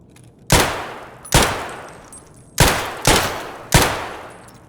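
Unsuppressed gunfire from a new weapon in Escape From Tarkov: five loud, sharp single shots spaced irregularly about a second apart, each with a ringing decaying tail, and no talking.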